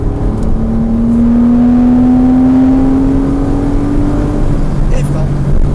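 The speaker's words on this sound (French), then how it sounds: "Et à fond Joël, jusqu'au freinage." A Porsche Cayman S engine pulls hard at full throttle on a racing track, its loud, steady whine climbing in pitch, heard from inside the car while an instructor speaks.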